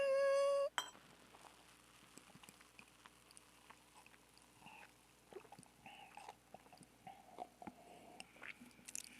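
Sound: glasses clinking in a toast over fried chicken and beer

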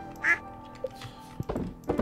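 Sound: ducks quacking in the video game Stardew Valley

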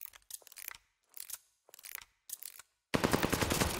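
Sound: bomb being planted in video game Call of Duty Vanguard

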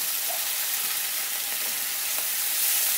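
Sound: spice paste frying in pan for soybean curry

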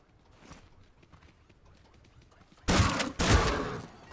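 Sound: spud gun firing in video game Scrap Mechanic

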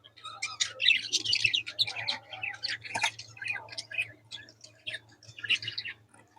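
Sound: budgerigar chirping

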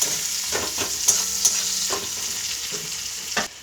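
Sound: onions frying in a pan with fried chuno fish

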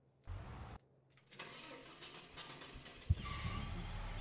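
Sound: car engine starting in Farming Simulator 22 video game

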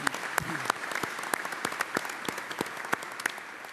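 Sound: audience applause

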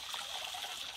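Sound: water flowing from a pipe by gravity

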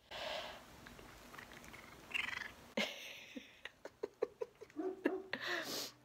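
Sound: happy cat purring and meowing

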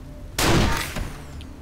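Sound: gunshots in Wasteland 2 video game

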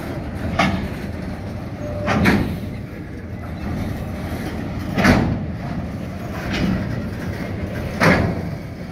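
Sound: freight train wagons passing from copper refinery

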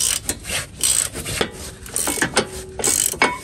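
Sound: wrench unscrewing brake caliper bracket bolts

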